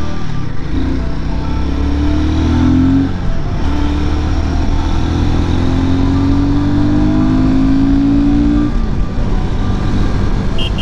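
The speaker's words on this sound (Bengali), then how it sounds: "69-70-তে বাইক চলছে, কোনো কিছু মনেই হচ্ছে না" A Royal Enfield Guerrilla 450 motorcycle cruises at around 70, its engine droning loud and steady with a rising tone as it pulls, wrapped in constant wind rush, no voices.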